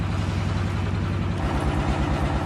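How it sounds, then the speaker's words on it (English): Vehicle engine idling close by outdoors, a loud, steady low rumble with a regular throbbing pulse that runs unbroken through the whole stretch. "Can you turn the engine off, mate?"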